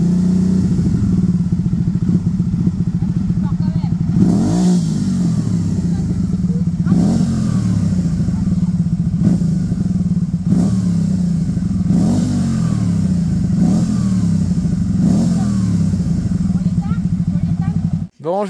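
A 4x4 truck engine at a diesel truck festival in Canada revs hard and repeatedly, with loud, close surges rising and falling over a steady rumbling idle and some rattling clatter.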